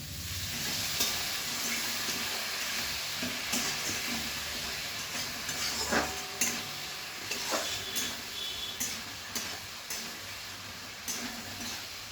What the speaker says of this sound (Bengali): এবার একটু সামান্য জল দিয়ে দিচ্ছি।